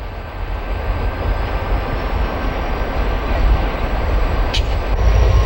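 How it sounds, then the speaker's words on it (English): A MARC commuter train switching at a terminal on the Northeast Corridor, powered by a GP40 and an F unit: a steady low diesel rumble and drone that builds slightly, with a brief high squeal near the end. "A MARC commuter train that pulled into the terminal earlier is about to do some switching."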